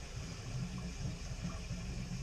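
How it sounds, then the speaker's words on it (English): Continuous low gushing of water pushed out of a pressurized water heater tank, a constant rushing drain with no pauses. "the water pressure is pressurizing that tank and pushing the water out of it"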